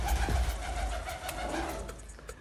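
Old pigeons belonging to a Sardar family of Bassian coo in low repeated throaty calls close by, with faint background chirps and rustle.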